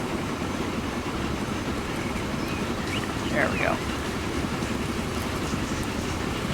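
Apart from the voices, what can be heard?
train running in video game Transport Fever 2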